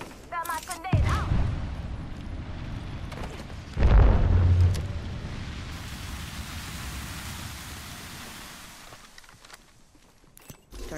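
A grenade blast and gunfire in a video game: an early burst of shots, a heavy explosion around four seconds with a rumbling tail, then lingering noise that fades before a few late shots.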